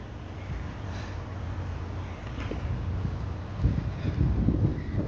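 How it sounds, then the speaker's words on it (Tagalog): Steady wind blowing in from the sea at a seaside park in Jizan, a continuous low roar buffeting the microphone, gusting a little stronger near the end. "hindi ko alam kung hindi naman siya sandstorm. Pero mahangin lang"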